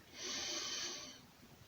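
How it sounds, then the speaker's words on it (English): A single slow in-breath through the nose during a shoulder-lift exercise, faint and close, swelling and easing off over about a second. "And now we're breathing in, lifting the shoulders up."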